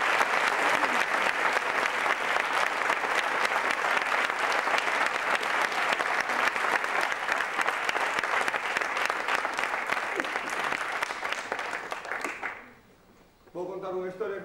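Audience applause at a Galician-language poetic political cabaret show: dense, steady clapping from a full house fills about twelve seconds, then fades away as a voice begins speaking.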